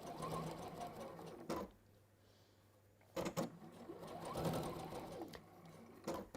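Sewing machine stitching in short bursts, a steady mechanical whirr starting and stopping with brief pauses between runs, close and fairly quiet, no voices.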